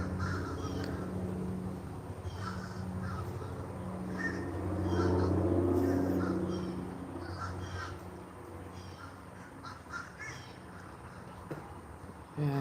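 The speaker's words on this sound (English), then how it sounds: "Yeah, I hear the crows over there." Crows caw repeatedly in the distance, scattered calls over a steady low hum of outdoor background noise.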